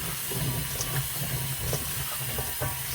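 Tap water runs steadily into a sink while fish is being washed for soup, a close, constant splashing hiss with small bumps of handling and no talk.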